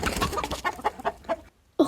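A chicken clucks in a rapid run of close, choppy calls, then falls briefly silent before one last squawk; a sound effect from the game Blindfold Sound Search.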